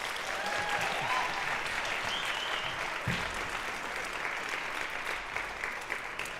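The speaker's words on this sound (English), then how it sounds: "Let's give them one more round of applause." An audience of parents claps for a high school intro-to-jazz class at a school jazz concert, sustained even applause filling the room from start to finish without a break.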